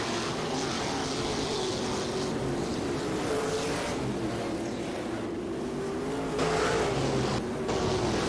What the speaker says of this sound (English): Lucas Oil POWRi WAR League Sprint Cars, you need to begin making your way to staging, please.